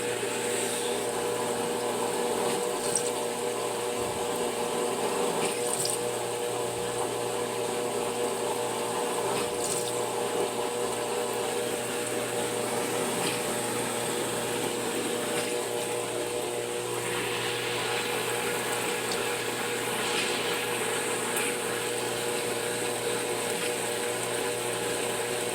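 A GE GTW465 top-load washer spins a load of bulky items: a continuous mechanical hum and whir with a faint rhythmic ticking and rattling, steady and close, with no talking over it.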